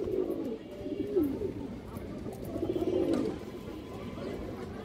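A kajla pigeon cooing in a loft, two soft throaty coo phrases, one near the start and another around the middle, close and fairly quiet over a low background hum.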